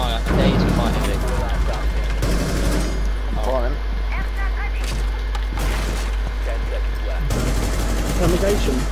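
Gunfire from the video game Rainbow Six Siege comes in bursts of rapid shots, loud and close, mixed in with a player talking excitedly over the action.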